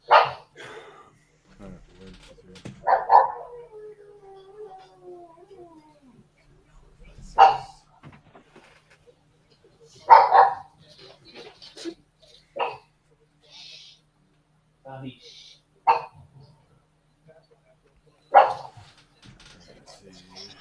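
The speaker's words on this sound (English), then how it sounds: "Sorry about the pup noise." A puppy barks in short sharp bursts, repeating every few seconds with whimpering between, close and loud against a quiet room during a card game at home.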